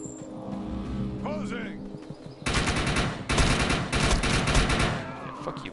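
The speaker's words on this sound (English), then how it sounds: "That is a shotgun." Heavy gunfire bursts in Defiance 2050, loud and close, erupting after a quieter stretch and continuing in dense repeated blasts amid game action.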